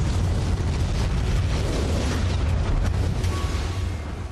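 A volcanic eruption explosion sends a pyroclastic cloud of scorching gas through the valleys. It comes through as a sustained, loud, dense roar and rumble, heavy in the low end, staying steady for several seconds before easing slightly near the end.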